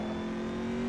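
A Chevy C7.R race car engine in Assetto Corsa, revving loud and steady after a downshift to third gear, with a sustained droning tone throughout.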